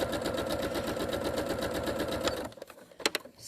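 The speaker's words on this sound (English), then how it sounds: "So I'm just sewing 1/4 inch." A sewing machine runs a quarter-inch seam joining quilt fabric panels, a fast even close-up chatter of stitching for a couple of seconds before stopping, followed by a few light clicks and handling noises.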